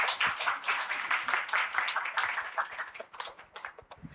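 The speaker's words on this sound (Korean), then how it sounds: "네, 박수로 맞이해 주세요" Audience applause at a live public book talk, steady dense clapping from a crowd greeting an author, moderately loud and continuous throughout.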